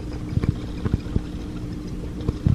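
Several short, hollow taps on the hard plastic side pod of a JP RokR motorcycle helmet come in small clusters, close up and fairly quiet, with brief pauses between them.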